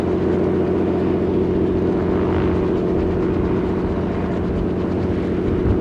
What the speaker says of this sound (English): Plane's going to cross over between us.